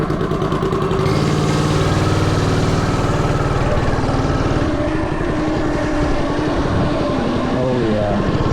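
A 99cc gas mini bike engine runs loudly and continuously throughout a test ride, a buzzing drone close by that shifts in pitch as the rider goes, with no gaps.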